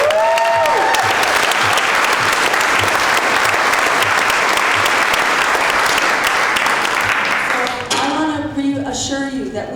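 Large rally crowd at a Green Party campaign event in Manchester, New Hampshire, cheering and applauding loudly and continuously, a dense wall of clapping and shouts that fades near the end as a voice resumes speaking.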